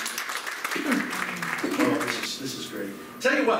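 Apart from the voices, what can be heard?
audience applause at a hypnosis show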